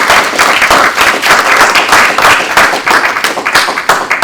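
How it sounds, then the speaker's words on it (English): An audience at a tech presentation gives a round of applause, loud dense clapping close by that holds steady for the whole few seconds. "Round of applause,"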